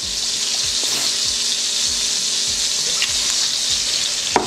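Pork filet sizzling in a little oil in a hot pan, a steady, close, dense frying hiss with faint crackles throughout, no talk.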